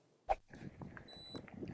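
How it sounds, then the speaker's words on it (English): A Garmin Edge cycling computer gives a short electronic beep on a mountain bike ride on Nordic trails, a thin steady tone over rolling tyre and trail rumble, preceded by a brief knock. "that beep right there was the start of the sectors laid down for this feature testing"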